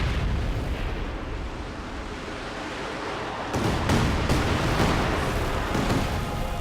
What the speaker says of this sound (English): another wasted barrage. He's yet to actually do even the slightest of damage with his Panzerwerfer